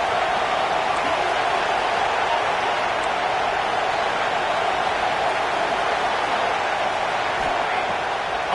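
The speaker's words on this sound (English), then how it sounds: "how nice is it to have the home crowd going absolutely bananas?" A home crowd roars loudly and continuously at a South Carolina vs Clemson college football game, a dense, steady wall of stadium noise with no letup.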